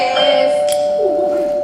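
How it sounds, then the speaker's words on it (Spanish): A doorbell in a live stage play at a Bilbao theatre gives a steady electric buzz that holds unbroken for the whole moment, fairly loud, with a brief sharp click near the middle. "El timbre."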